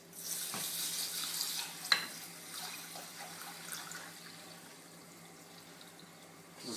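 Rice rinsed with water in a bowl for dal gives soft, faint sloshing and trickling water with a couple of brief splashes and clinks, no talking.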